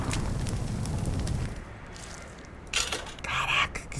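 An explosion in the game Little Inferno after something radioactive is thrown into the fire: a roaring burn fades out, then a sharp burst and crackling flare follow, with brief vocal sounds nearby.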